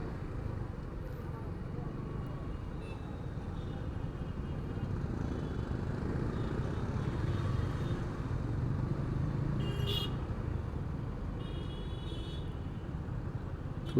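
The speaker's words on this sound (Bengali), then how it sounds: "গুলশান বনানীর জ্যাম" Traffic jam in Gulshan Banani, Dhaka: a low, steady rumble of idling cars and motorcycles heard from a bike, fairly faint, with occasional brief high horn or brake squeals.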